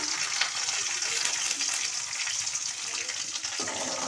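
Radish sautéing in a pan for radish chutney hisses in a dense, even sizzle up close, with soft irregular crackle and a faint stir partway through, no voices.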